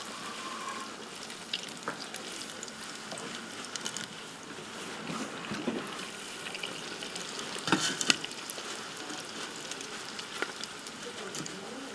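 Rice deep-fries in hot oil with a steady, dense sizzle and crackle that swells briefly now and then, continuous throughout.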